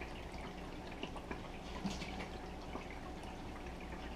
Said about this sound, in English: I'm going to empty out my water.